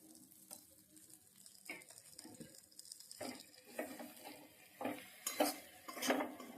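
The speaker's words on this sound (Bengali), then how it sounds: "ভেজে রাখা পটলগুলো এর মধ্যে দিয়ে দিচ্ছি আর চিংড়ি মাছটাও একসঙ্গে দিয়ে দিলাম" Fried pointed gourd and prawns added to a pan and stirred, sharp sizzling bursts with repeated metal spatula scrapes and clinks against the pan, growing louder toward the end, close up.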